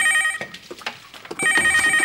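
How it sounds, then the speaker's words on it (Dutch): An old-style telephone bell rings in a kitchen in a Flemish sitcom, two short bursts of ringing separated by a gap and heard alone. "telefoon"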